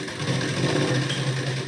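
A sewing machine runs a short, continuous burst while stitching a diagonal seam joining blouse piping strips, a steady close mechanical hum with rapid even stitching.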